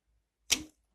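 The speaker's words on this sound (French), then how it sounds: "Venir couper l'ancienne poignée." A cutter knife slicing through an old door handle, one short sharp snap-like cut lasting a fraction of a second, close and clear in an otherwise quiet room.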